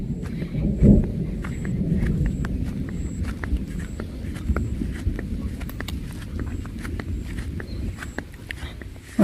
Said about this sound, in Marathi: आज पाऊस कमी आहे बारीक बारीक पडतोय पाऊस आणि आता बघा गाजतंय धडाम धुडूम धडाम धुडून